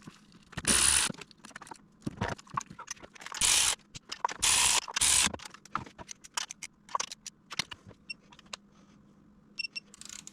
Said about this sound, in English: Then you can use your ratchet and your torque wrench to get it all the way down.